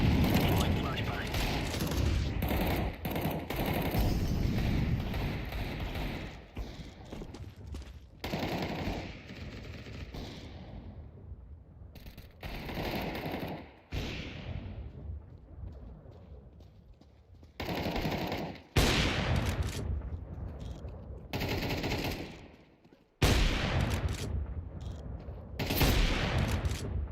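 Counter-Strike 2 match with bursts of automatic gunfire, booming grenade blasts and gaps of quieter moments, loud and close, with game voice lines over the action.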